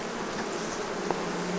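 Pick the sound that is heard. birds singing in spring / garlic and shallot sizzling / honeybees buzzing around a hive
honeybees buzzing around a hive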